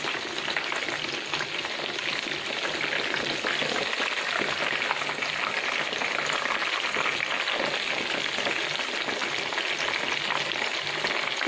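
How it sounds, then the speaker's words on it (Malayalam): Chicken schnitzel fries in a pan over a low flame, giving a steady, even sizzle with fine crackling that holds without a break, close and moderately loud, with no talk. "ഇത് ലോ ഫ്ലെയിമിലിട്ട് ഇതിൻ്റെ ഉള്ളു വേകുന്നവരെ നമ്മളിത് ഫ്രൈ ചെയ്തെടുക്കാവുന്നതാണ്."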